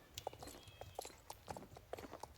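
A horse moves at a medium gallop, hooves striking in a quick, regular rhythm of close, distinct thuds at a distance.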